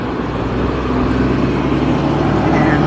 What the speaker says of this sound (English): And there goes a noisy truck.